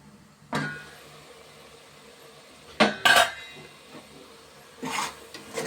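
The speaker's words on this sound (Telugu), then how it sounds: "మూత పెడుతున్నాను" A lid is set onto a cooking pot, giving several sharp metallic clanks and rattles spaced over a few seconds against a quiet kitchen background.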